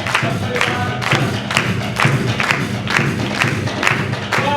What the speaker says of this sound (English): Now, clap everybody, clap.